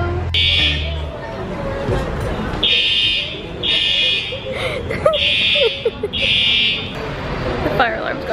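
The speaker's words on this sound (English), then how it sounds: "The fire alarm's going off." A fire alarm sounds in a series of loud, evenly spaced electronic buzzing tones, each about a second long, over the murmur of people talking nearby.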